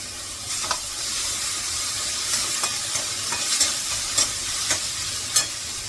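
Onion sautéing with coriander in a hot pan, a steady close sizzle punctuated by several sharp scrapes and taps of a spatula stirring, with no voices.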